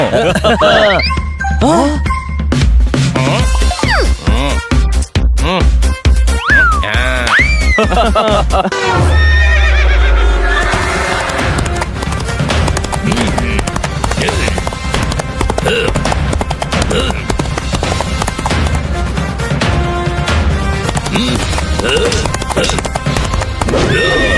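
Horses gallop along a road with clip-clop hooves, loud neighing and jingling harness, amid cartoon sound effects and music, and a voice speaks over part of it.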